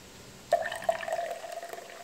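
Sparkling water pours and fizzes quietly with a few soft splashes near the start, then a light, steady trickle continues.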